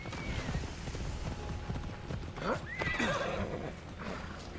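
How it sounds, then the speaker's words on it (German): A horse in the video game Assassin's Creed Odyssey whinnies loudly over steady clip-clopping hooves, set against a continuous outdoor ambience with a second neigh shortly after the first. "Mit Pferdchen geht es doch ein bisschen schneller."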